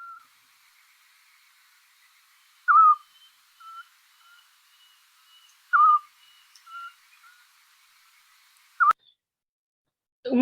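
Two little scops owls trading short whistled notes, one louder and nearer, the other softer, alternating in a steady rhythm over a quiet night background, ending with a sharp click and a brief rustle.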